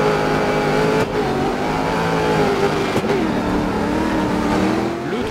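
A rally car in DiRT 4 re-accelerates hard out of a corner, its engine revving loudly and steadily climbing in pitch, with brief gear-change dips around the one- and three-second marks and no talk.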